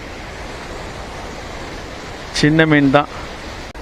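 Water pours steadily over the Krishnagiri dam as a constant broad rushing wash, with a voice briefly speaking over it.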